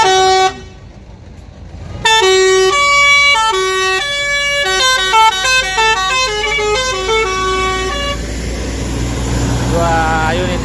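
Bintang Sahira buses departing a bus terminal, loud nearby horns playing a long run of melodic musical notes, with engine rumble underneath and a brief pause near the start.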